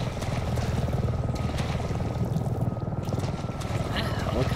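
A helicopter in the Resident Evil 7 swamp area thrums with a steady, dense rotor chop overhead, continuous and fairly loud throughout, with someone talking over it.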